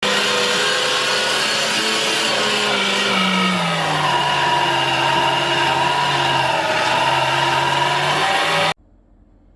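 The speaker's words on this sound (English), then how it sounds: "So I'm going to run this through the mincer first." A meat mincer grinds sausage meat for Lincolnshire-style sausage, a loud, steady motor whine that shifts pitch as the meat goes through, then cuts off abruptly near the end.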